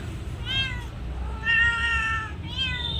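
A cat meows three times nearby, drawn-out plaintive calls with short pauses between, over a low steady background rumble.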